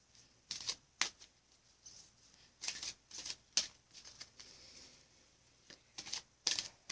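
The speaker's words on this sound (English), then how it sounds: "Now I'm going to pull from the Halloween Oracle deck by Stacey DeMarco." Halloween Oracle tarot-style card deck being shuffled by hand in a quiet room, a series of close, crisp riffling bursts at an irregular rhythm, heard alone without speech.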